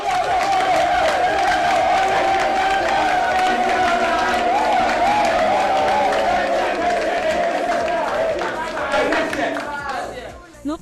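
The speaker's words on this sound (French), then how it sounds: "Sur vos acclamations, s'il vous plaît." A large audience at the Miss Legon beauty pageant cheers and claps loudly for the five finalists, a sustained roar of crowd noise with shouts and an announcer's voice over it, tapering off at the end.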